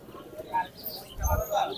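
Pigeons at a bustling pigeon market, soft coos and chirps close by beneath ongoing crowd chatter.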